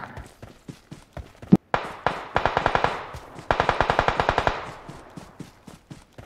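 Automatic gunfire in an intense squad fight in a video game: rapid rattling bursts of evenly spaced shots, loud and close, with short gaps and single shots in between.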